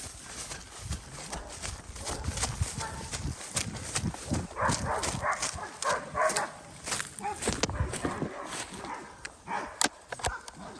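Hunting dogs bark and yelp at a bayed white wild boar out in scrub, with sharp barks coming in irregular flurries amid rustling and scuffling, close by, with voices heard now and then.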